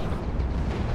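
A dense, roaring explosion rumbles continuously and loudly in the space combat video game Fractured Space, filling the whole moment with heavy low-end boom and no voices.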